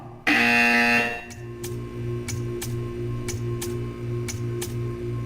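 In the Portal 2 video game, a loud, harsh electronic buzzer sounds for about a second, then gives way to a steady run of crisp ticking clicks over a low mechanical hum.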